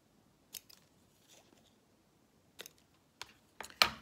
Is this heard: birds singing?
no